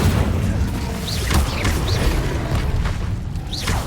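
Rapid fire-spell casts in Hogwarts Legacy, played on Xbox Series X: whooshing bursts and booming blasts repeat about every second over a dense, continuous layer of game sound, with no talking.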